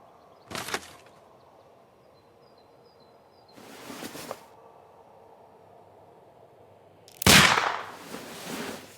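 Three sharp pistol shots fired at a package in Sherlock Holmes: Crimes and Punishments, each a sudden broadband burst, the last loudest and nearest with a trailing rumble, separated by quiet gaps.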